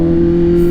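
A Kawasaki Z900 with its airbox removed idles steadily nearby with a loud, raspy drone, a brief moment of sustained engine tone with no pauses.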